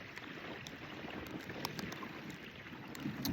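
Water laps and splashes around small boats, with occasional knocks and oar strokes over a steady outdoor wash of water and faint wind.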